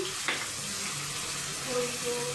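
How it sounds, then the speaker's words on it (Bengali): Onions fry in a pan as spices go in, giving a continuous close sizzle with a brief clatter near the start and no talking. "এখানে আমার পেঁয়াজটা লাল হয়ে আসছে, এখন মশলা দিয়ে দেব।"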